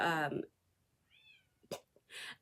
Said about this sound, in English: You can probably hear a meowing in the background.